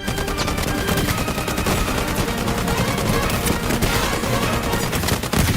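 Dense rapid gunfire fills a close-quarters raid in the Higuard shooter video game, a loud, continuous burst of overlapping shots with no pauses and no voices.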